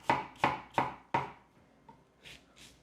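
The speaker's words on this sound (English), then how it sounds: "Just chop it nicely and fine. I love red onion, especially on this dish." A knife chopping red onion on a board, four loud, evenly spaced strikes up close followed by a few fainter, softer cuts.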